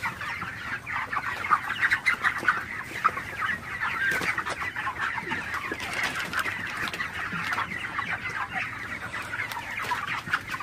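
A large flock of broiler chickens, panting open-mouthed in oppressive heat, clucks and murmurs nonstop, a dense, busy chorus of overlapping calls with no pauses.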